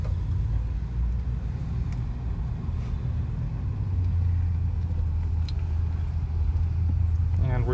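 A steady low engine and road rumble fills the cabin of a 1978 Mercury Cougar XR7 with the air conditioning running, a constant close drone with no breaks.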